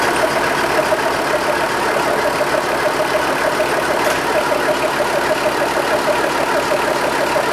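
A Renault 9 car engine idling steadily with a mechanical knocking rhythm, close and continuous throughout.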